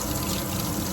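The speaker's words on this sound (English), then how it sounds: "I'm going to run it through the water" Tap water runs steadily into a sink as hands are rinsed during a surgical hand scrub, a close, loud, continuous splashing rush with no voices.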